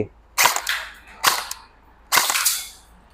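An E&C 302 M4 CQB electric airsoft gun with a metal body fires three sharp, loud shots at even intervals, each snapping out clearly against a quiet background with no talk.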